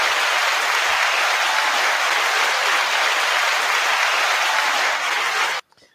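A crowd applauding a livestream commentator at a youth football friendly, a dense continuous wash of clapping that holds steady for several seconds and then cuts off abruptly.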